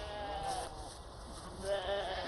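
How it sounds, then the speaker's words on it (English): Sheep bleat from a flock at some distance, their calls rising and falling over a steady outdoor background. "Hearing the sheep calling, I really want to go and see if they're anything like sheep back home."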